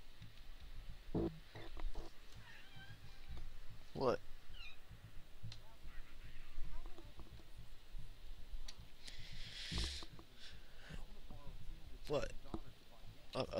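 A person imitates a cat's meow a few times amid chatter and background noise during Payday 2 gameplay, the mimicked mews mixed in with talking voices.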